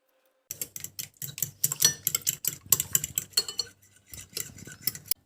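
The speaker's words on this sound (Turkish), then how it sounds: "Ah, yumurtalı harcımı da çırptım." A whisk or fork beats an egg mixture with milk and olive oil in a bowl for sandwiches, making rapid, rhythmic metallic clinks and scrapes against the bowl, close and continuous with a brief pause near the end.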